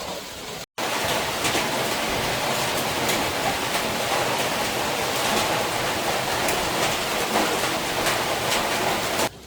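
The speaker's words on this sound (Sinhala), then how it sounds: "දැන් වැස්ස පානක ඉන්නවා තාම වහිනවා" Steady heavy rain pours down in the Sinharaja rainforest, Sri Lanka, a dense continuous hiss with scattered drips, broken only by a brief cut near the start.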